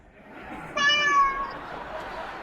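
A house cat gives a single clear, drawn-out meow up close, tonal and wavering, rising out of a quiet room and fading after about a second.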